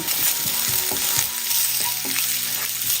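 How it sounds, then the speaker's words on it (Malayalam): Chopped ginger and garlic sizzle loudly in hot oil as a spoon stirs them in a pan, with quick scrapes and knocks rising above the constant hiss. "ഇഞ്ചിയുടെയും വെളുത്തുള്ളിയുടെയും ഒരു പച്ചച്ചുവ മാറുന്നവരെ ഒന്ന് ഇളക്കി കൊടുക്കുക."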